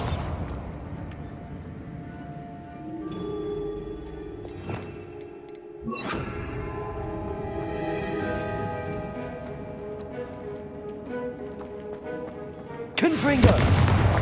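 Repeated Bombarda spell blasts in the Hogwarts Legacy video game, booming explosions with ringing magical tones layered over game music, one sharp hit near the middle and a louder burst at the end.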